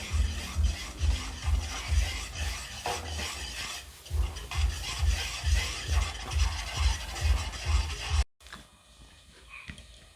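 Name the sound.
stirring milk powder into warm water in a pan (kadai)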